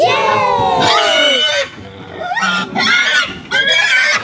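Pigs squeal and grunt inside a livestock truck or pen with open drop sides, several shrill falling cries in bursts separated by brief lulls, close and loud.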